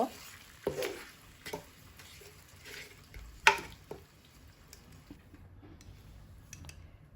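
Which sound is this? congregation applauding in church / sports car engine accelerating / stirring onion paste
stirring onion paste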